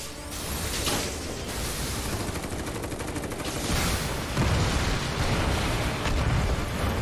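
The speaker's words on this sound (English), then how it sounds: "Explosion's a lot bigger than I thought it'd be." A large explosion in the video game Final Fantasy VII Remake lets loose a sustained, roaring burst of crackling blasts and rumbling debris that swells louder midway and keeps going to the end.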